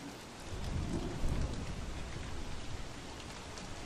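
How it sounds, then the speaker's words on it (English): Rain patters steadily in a video game (Don't Starve) while a deep roll of thunder swells early on and fades, leaving the downpour hissing alone. "Bad thing about when it's raining, lightning strikes."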